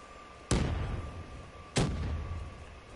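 Two heavy explosions in the Call of Duty Black Ops 3 zombies mode, each a sharp loud blast followed by a rumbling decay, spaced about a second apart over a low background hum.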